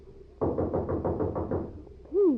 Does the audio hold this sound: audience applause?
no